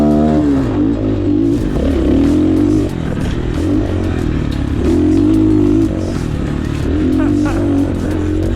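Cheap 250cc dirt bike bought at Walmart, ridden hard with a loud, steady engine drone and rising and falling revs, plus rattles and clatter from the chassis running throughout.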